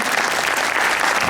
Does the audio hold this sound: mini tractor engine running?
no